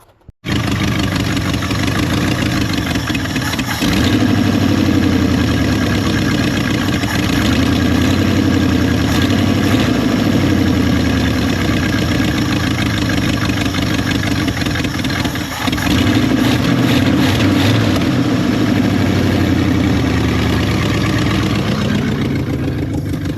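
A Ford Dentside F150 truck engine runs steadily at a rough idle, loud and close throughout, with a brief dip in the middle and no talk.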